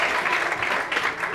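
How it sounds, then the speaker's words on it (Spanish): Theatre audience at a stand-up comedy show bursts into steady applause, a dense, continuous wash of clapping filling the room for a short burst. "Un aplauso a mi colega Tobey Maguire"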